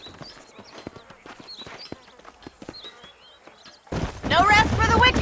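Horse hooves clip-clopping at a walk in the Red Dead Redemption video game, faint irregular taps with birds chirping in the background, then a voice starts speaking over them near the end.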